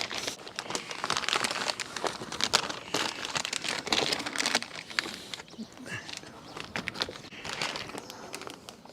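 Crinkling and rustling of a new plastic dust collector bag being handled and fitted onto a Shopsmith dust collector, a steady near crumpling texture with occasional sharper crackles throughout.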